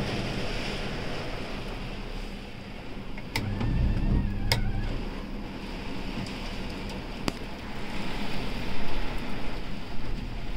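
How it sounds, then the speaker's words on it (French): Hail falls hard during a sudden summer storm in Lyon, a dense, steady roar of hailstones with a few sharp impacts and a low rumble building toward the end. "Et il y a la grêle qui est arrivée très fort là, d'un coup."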